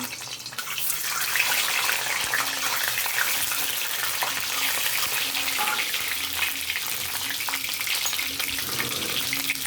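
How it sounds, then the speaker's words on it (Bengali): Eggs fry in hot oil in a pan for an egg curry, giving a steady, loud, close sizzle and crackle that runs unbroken throughout, with no talking. "আমরা ডিমগুলোকে একটু ভেজে নেব।"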